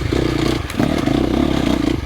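A 2025 KTM 350XCF dirt bike engine drones loudly and steadily while riding, with a brief dip and clatter before the revs pick up again.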